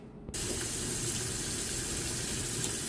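A tap turns on and hot water runs steadily over hands being washed with soap at a sink, a close, continuous rushing splash with no talking.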